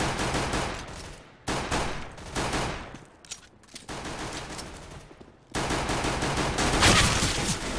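Gunfire in the video game CS GO: rapid bursts of automatic shots in several separate volleys with short gaps between them, loud and close, without speech.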